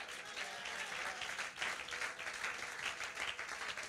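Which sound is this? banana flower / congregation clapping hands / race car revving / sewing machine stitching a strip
congregation clapping hands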